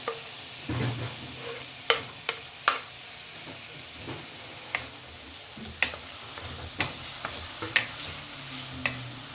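Finely chopped tomatoes sauté in a pan for an Indian-style red pasta sauce, making a soft steady sizzle broken by sharp, irregular clicks of a spoon against the pan, heard close and fairly quiet with no voices.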